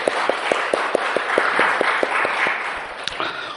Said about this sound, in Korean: 주님께 영광의 박수를 돌립시다.